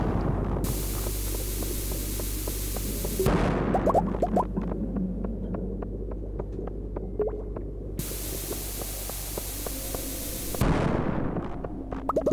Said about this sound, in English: Bomb mining at its finest.